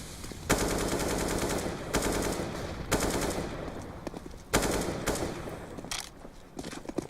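Gunfire in a CS:GO esports match, heard as loud rapid bursts of shots repeating every second or two, close and dense, without talking.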